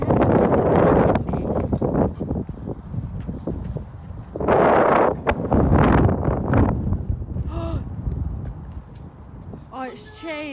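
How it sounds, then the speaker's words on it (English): Strong wind buffets the microphone outdoors in loud, gusting rumbles that surge and ease throughout, with people talking over it near the mic. "It's so windy."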